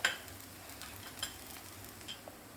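Paratha frying in butter on a pan, a faint, soft sizzle with a few light ticks and scrapes scattered through it.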